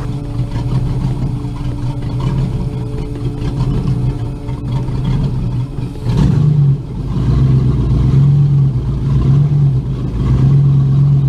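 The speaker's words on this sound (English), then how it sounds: "in about 1 minute I'll be back when we are firing up the engines." Boat engines start up at a lake launch, a low rumbling motor that catches midway and settles into a loud steady idle with droning tones.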